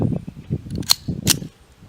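Slide of a semi-automatic pistol being racked to chamber a round, two sharp metallic clacks close by amid faint handling noise.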